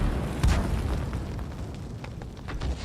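A Grille tank gun in a video game fires and hits a T14, one deep booming blast that rolls into a rumbling tail, with further dull impacts and crackle from the battlefield behind it.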